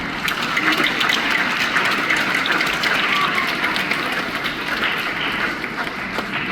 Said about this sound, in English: So let's clap for our caregivers and families.